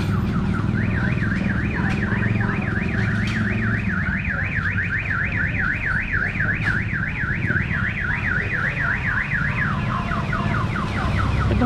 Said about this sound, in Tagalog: Itong kotse to, nag-alarm po